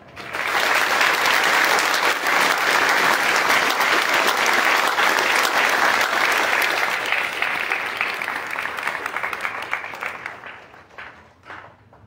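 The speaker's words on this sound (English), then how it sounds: "I ask you to join me in another round of applause for the cadre" Steady, dense applause fills a hall at an Army infantry graduation ceremony for Bravo Company, 2-10 Infantry Regiment, honoring the drill sergeant cadre. It stays loud and even, then tapers into a few scattered claps and silence.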